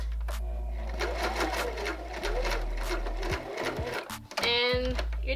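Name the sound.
sewing machine stitching a headband onto a lace front wig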